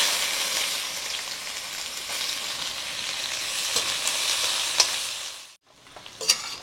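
Onions and fennel seeds sizzle steadily in hot oil for a village-style mushroom curry, a loud broadband frying hiss with a few stirring clinks, cutting out briefly near the end before resuming.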